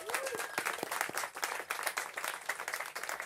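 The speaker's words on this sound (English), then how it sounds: "So let's give them a round of applause." Applause from a lunchtime audience gathered for a talk, steady dense clapping from a modest crowd throughout, fairly close, with a voice briefly audible over it.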